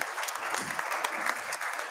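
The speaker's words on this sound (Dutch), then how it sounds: "Een applaus voor het forum." Brief burst of applause from a symposium audience for a forum panel, clapping steadily throughout.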